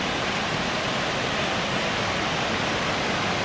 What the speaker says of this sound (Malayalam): ഇതാണ് അവിടുത്തെ ഏറ്റവും ഫേമസ് ആയ വെള്ളച്ചാട്ടമാണ്.